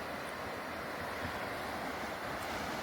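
The Shetrunji river runs full of water in a steady, broad rushing wash, joined by wind buffeting the microphone, with no voices.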